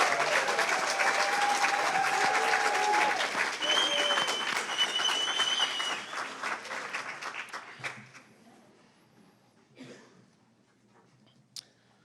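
A crowd applauds steadily, dense clapping that gradually thins and fades out over several seconds, leaving a few scattered claps near the end.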